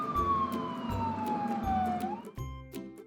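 An ambulance bus siren sounds close and loud, a long gliding wail that slides down in pitch and then switches to a different pattern, with rhythmic low pulses underneath.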